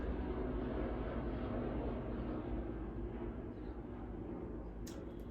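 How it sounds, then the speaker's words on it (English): A steady, broad low rumble of an aircraft, like a helicopter passing overhead, continuous and fairly loud throughout with no voices. "Helicopter."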